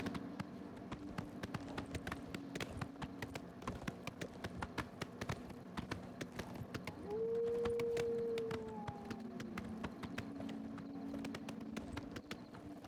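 Horse hooves in The Elder Scrolls IV: Oblivion, a steady rhythmic clip-clop of galloping on open ground that runs throughout, with a long howling tone rising midway and faint ambient game sounds behind, and no speech.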